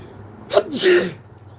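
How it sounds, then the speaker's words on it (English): A single close sneeze with a quick sharp intake followed by a loud explosive burst, then quiet room tone. "I gotta sneeze."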